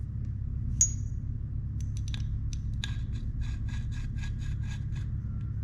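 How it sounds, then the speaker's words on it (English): A metal tool taps and scrapes against the frame of a Daiwa Tatula SV TW casting reel during maintenance, a few faint clicks followed by a quick rhythmic run of light ticks over a low steady hum. "it's just the tool hitting the frame"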